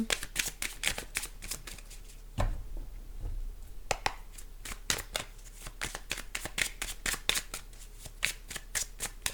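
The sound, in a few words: shuffling tarot cards for a reading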